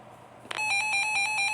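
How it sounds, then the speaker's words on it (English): A Reecom R-1630 weather alert radio sounds its warning siren: after a short quiet lead-in, a loud, close, steady two-tone electronic alarm pulses rapidly and continuously. "Warning siren sounds like this."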